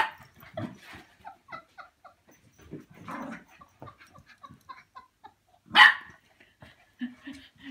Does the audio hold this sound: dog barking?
yes